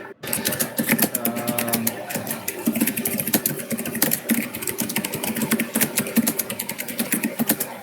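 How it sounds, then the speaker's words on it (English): Someone types quickly on a computer keyboard, producing a dense, steady clatter of close key clicks throughout, with a voice briefly heard near the start. "Who the fuck is typing?"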